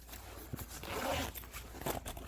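Zipper on the carrying case of an AdoreTrip 12 volt 2500A jump starter with air compressor being drawn open in a couple of quick, close raspy pulls, alone with no talk.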